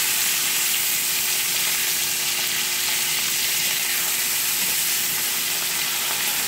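Salmon fillets sizzling and frying in a pan just after being flipped, a steady close crackle and hiss with no talking.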